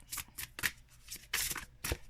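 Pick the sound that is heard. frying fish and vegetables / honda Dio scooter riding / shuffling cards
shuffling cards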